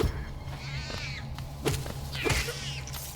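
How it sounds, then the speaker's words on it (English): Cat-like meowing cries in the video game Hollow Knight, two or three short wavering calls rising over a low steady hum, with soft thuds between them. "Why does it sound like a cat?"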